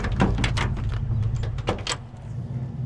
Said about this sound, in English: All right, doors open great.